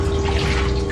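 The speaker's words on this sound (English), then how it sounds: "Washing my face and arms in cold water is all I can do to keep myself cool" Cold water runs steadily from a restroom tap as someone washes face and arms, a constant close splashing hiss with a faint hum beneath.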